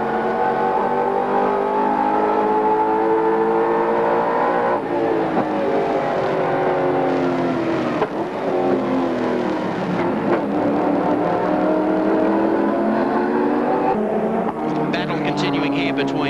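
A 1990 Bathurst touring car engine screams through a fast lap in traffic, pitch rising and dropping with gear changes and corners, loud and close throughout.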